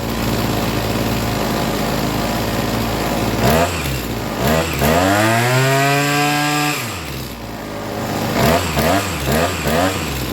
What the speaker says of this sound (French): le moteur réaccélère et j'ai un trou